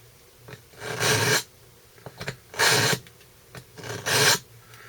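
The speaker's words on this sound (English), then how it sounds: "I like to put the knife in and pull it through like this. You can see the little metal shavings falling off." Knife blade rasps through an AccuSharp carbide sharpener in three distinct pulls, each a gritty scraping stroke about half a second long, close up, with small clicks between strokes.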